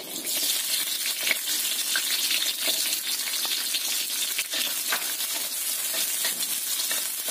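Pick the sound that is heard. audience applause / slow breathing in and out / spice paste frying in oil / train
spice paste frying in oil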